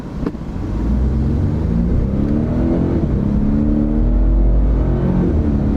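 A Toyota Tundra twin-turbo hybrid pickup accelerates hard in a drag race, its engine rising in a loud, sustained drone with smooth upward shifts and climbing pitch, recorded close with no talking.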